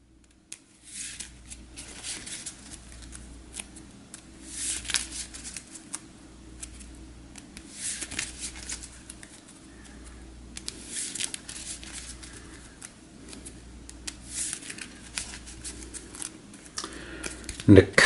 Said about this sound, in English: give the tarot deck a quick shuffle